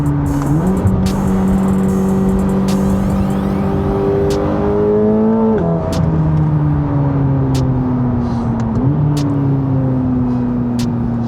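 A 1064 hp Chevrolet Corvette C8 ZR1 pulls hard through downtown Chicago, its turbocharged engine climbing loudly in pitch through two gear changes, with turbo whoosh and sharp exhaust pops near the shifts.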